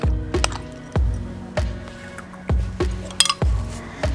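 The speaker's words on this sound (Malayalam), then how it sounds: "ഇനി നമുക്ക് കുറച്ച് ഫ്രൂട്ട്സിൻ്റെ മിക്സ് കൂടെ ഇതിൻ്റെ മുകളിൽ നിറച്ച് കൊടുക്കാം." Spoonfuls of chopped fruit mix being dropped onto avil milk (beaten rice and milk drink) in a glass, giving about seven soft wet squishes and drips at an irregular beat, close and fairly quiet with faint clinks.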